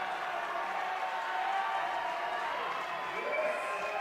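A crowd at a bouldering national championship final cheers on climber Madison Fisher, a dense, continuous roar of voices and shouts from the audience that holds steady and swells slightly near the end.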